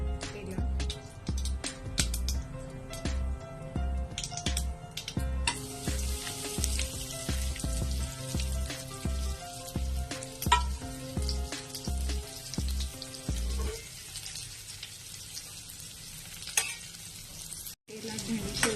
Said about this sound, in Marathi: तेलात भेंडी सोडली की छान ते हलवून घ्यायची